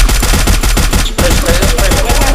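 Rapid automatic gunfire in a video game shooter, a loud, close burst of evenly spaced shots in a fast rhythm with a brief pause partway through.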